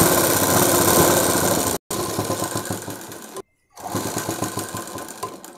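A sewing machine stitches a Punjabi dress top in fast, steady runs, loud and close, with two short stops between three bursts of rapid mechanical chatter.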